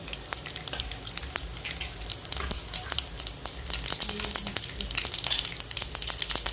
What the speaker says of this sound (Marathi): तडका देण्यासाठी आपण आधी 1 चमचा राई